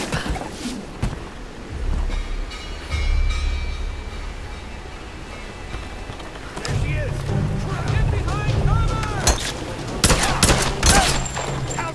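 Rapid gunfire bursts from the video game Tomb Raider crackle through dense game noise, with repeated sharp volleys and a heavy low rumble, while players talk over the action.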